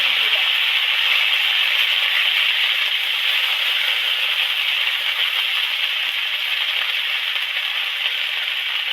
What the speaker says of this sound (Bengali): এবার তেলের মধ্যে কিছুটা আদা দিয়ে দিচ্ছি